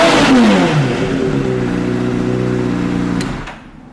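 A 2010 Honda CBR600RR special edition sport bike engine, heard close and loud as the revs fall from a high peak and then hold a steady buzzing idle before the sound drops off at the end.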